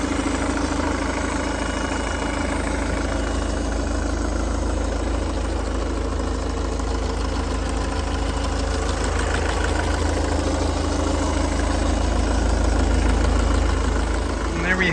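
A Ford Kuga engine idling steadily, a continuous low hum and rumble that stays level throughout, heard close with no talking.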